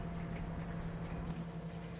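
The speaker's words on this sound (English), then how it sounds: "Why is the train like constantly trying to go and like drive and reverse at the same time?" Steady rumbling drone of a train in Farming Simulator 25, jerking between drive and reverse, a continuous loud mechanical hum with a sustained low tone and no clear breaks.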